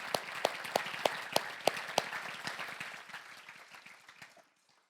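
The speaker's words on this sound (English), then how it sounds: "Folks, one more big round of applause." Audience applause at a Make-A-Wish gala in North Dakota, starting as distinct rhythmic claps over a crowd of clappers, then thinning out and fading to silence just before the end.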